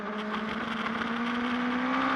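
Onboard a superbike racing at a New Zealand circuit, the engine note climbs steadily as revs build, a continuous rising whine over wind rush, loud and close with no voices.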